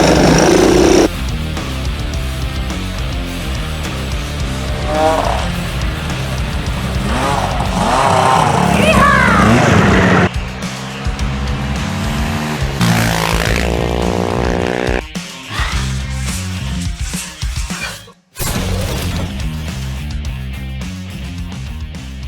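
Small lawn mower engine running after repair, a loud buzzing drone that holds steady, then sputters, cuts in and out and dies near the end, with brief talk over it.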